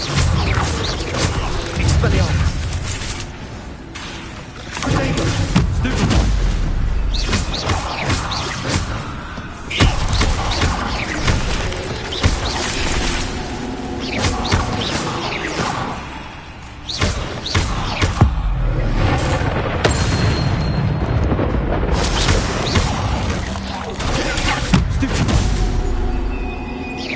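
Spells cast during Hogwarts Legacy gameplay on PS5 make a busy, loud stream of magical whooshes, thuds and impacts. Game sounds and a voice calling out spell names overlap throughout.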